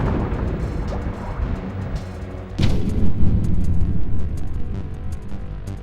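A missile and a submarine blow up in the N64 game Mission Impossible, with a rumbling low boom and a sharp, loud blast about midway through that leaves a heavy roar behind it.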